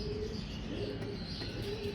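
Racing pigeons cooing at a loft, a soft continuous murmur of low coos with occasional faint chirps, steady and moderately close throughout.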